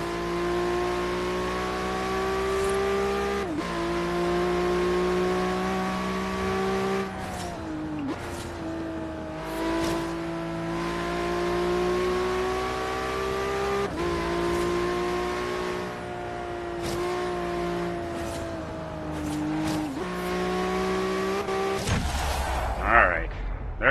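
A Honda NSX races in Forza Horizon 3, its engine droning steadily with shifting harmonic tones as it revs through gears, dipping at shifts, loud and continuous, with a brief rougher burst near the end.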